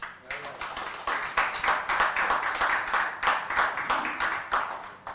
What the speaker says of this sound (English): Can we start the session with a huge round of applause?